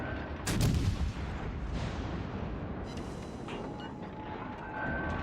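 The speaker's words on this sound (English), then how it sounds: "He's firing blindly into the smoke" Heavy naval guns in a warship video game boom out in a loud opening blast, followed by scattered distant reports and rumbling echoes under a dense, noisy battle backdrop.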